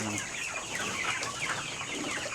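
Backyard chickens in the Philippines cluck and chatter in a loose chorus, with a steady bed of nearby farm noise and no voices.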